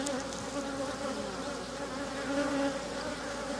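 Honey bees drone continuously at a double-deck beehive, a dense close buzz with shifting tones and no talk.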